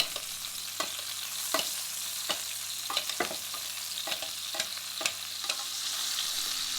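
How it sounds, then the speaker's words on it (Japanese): Bone-in pork frying in a pan with garlic and shallots, a constant close sizzle broken by frequent sharp scrapes and clacks of stirring, no voices. "このようにですね、こまめに動かしながらニンニクとエシャロットが焦げないように面倒を見ていきます。"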